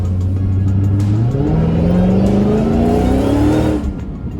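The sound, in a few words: Dodge Charger Hellcat engine revving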